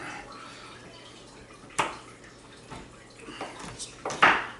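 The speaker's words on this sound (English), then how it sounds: "Not a fancy chop, just a rough chop." A bar of hand soap is roughly chopped into pieces, with several scattered knife knocks on a board, the last ones louder and close, over a quiet background.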